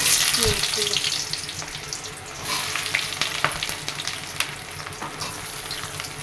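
Whole garam masala crackles and sizzles in hot oil in a pan while being stirred, a continuous close frying hiss with scattered spoon scrapes and clicks.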